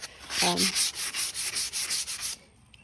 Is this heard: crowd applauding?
no